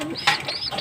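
A grizzle-colored pigeon gives one short, close coo, a soft tonal call lasting under a second with nothing else around it.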